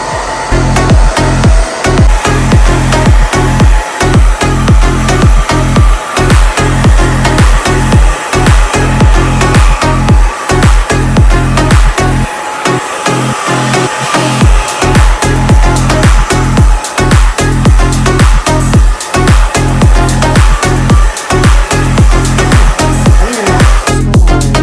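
Hair dryer running on high speed with medium heat during a men's fade haircut, a loud continuous blowing roar broken by rapid pulsing and a brief dip midway.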